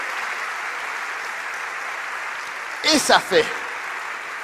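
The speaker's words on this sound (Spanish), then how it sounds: "Denle un fuerte aplauso" A church congregation applauds loudly and steadily during a sermon, a continuous wash of clapping with a brief spoken phrase from a man partway through.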